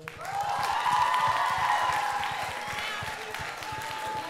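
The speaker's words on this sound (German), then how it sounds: "einen riesigen Applaus noch einmal" Audience applause after a Bnei Akiva dance performance at a Jewish talent show, a steady wash of clapping and crowd noise with some whoops, holding fairly loud throughout before easing slightly.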